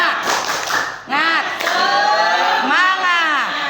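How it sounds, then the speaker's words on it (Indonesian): A school class claps together in a rhythmic group clap, a burst of sharp claps at the start followed by students chanting in unison. "kita akan melakukan tepuk semangat. Tepuk semangat."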